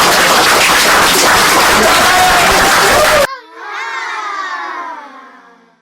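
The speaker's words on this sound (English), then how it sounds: "everybody stand up and give a well round of applause to my man, my brother" A standing crowd at a lecture cheers and applauds loudly for the speaker's guest, a dense roar of clapping and shouting up close that cuts off abruptly, followed by a single voice with gliding pitch.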